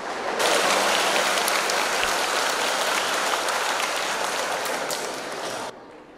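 An audience at a Buddhist dharma talk breaks into sustained applause, a loud, dense hiss of many hands clapping together that holds steadily before cutting off near the end.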